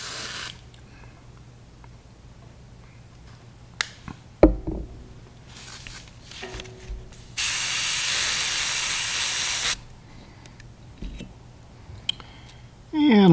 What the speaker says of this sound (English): Now let's load some transparent tropical green into the airbrush.